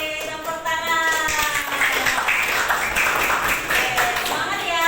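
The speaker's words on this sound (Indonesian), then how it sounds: "Yeay, tepuk tangan." A class of students claps together in a classroom lesson on Islamic teaching, a quick burst of hands mixed with high children's voices cheering over it.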